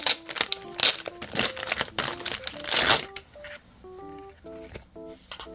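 An M-size sticker pack's plastic wrapping crinkles and tears open up close in quick, uneven bursts over soft background music.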